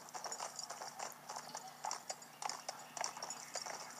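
Horse hooves cantering in the riding video game Horses 3D Imagine Champion Rider, a steady repeating clip-clop rhythm of moderate loudness heard alone, leaving an equestrian area.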